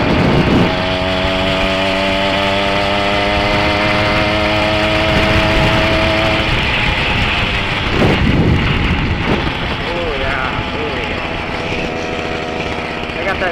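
A motorcycle fitted with a 44-tooth rear sprocket runs loud and close, its engine holding a steady, buzzing drone with slight shifts in pitch and rushing wind noise throughout.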